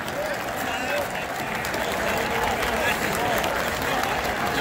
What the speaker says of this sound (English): listen to the sound of the bleacher creatures in right field at Yankee Stadium